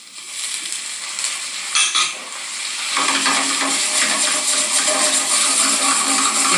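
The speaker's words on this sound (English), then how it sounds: "It's gonna sizzle." Chopped leeks in a hot pan as a whole lemon's juice and chopped flat leaf parsley go in: a loud, close, steady hiss and crackle that swells after a brief clatter midway and keeps sizzling.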